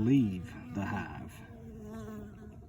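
Honey bees buzzing around a Ziploc bag sugar feeder at the hive, a steady close drone of many wings that rises loudest at the start and then hums on evenly.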